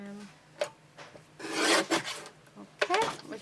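Card paper is trimmed with a run of scraping, rasping cuts and a few sharp taps, close and moderately loud, with a quick bit of handling noise between the strokes.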